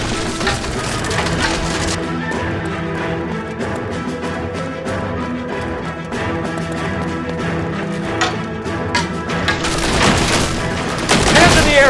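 Gunfire rings out in the L.A. Noire case The Fallen Idol, with repeated shots and booms over a dense, continuous backdrop of music or game ambience that grows louder toward the end.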